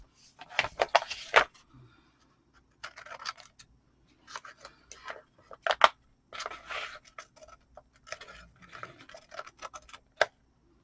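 Scissors cut paper for handmade card pages in short, crisp bursts of snipping, separated by quiet pauses and light handling sounds.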